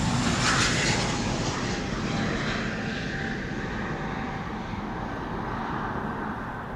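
A KLM Airbus A321neo takes off from Amsterdam Schiphol's Polderbaan runway, its jet engines giving a loud, sustained roar that slowly fades as it climbs away.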